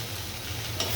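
Okra (bhindi) frying crisp in a pan gives off a dense, close sizzle with a light stirring scrape, loud and continuous over a very short moment.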